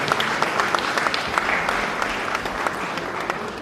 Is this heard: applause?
yes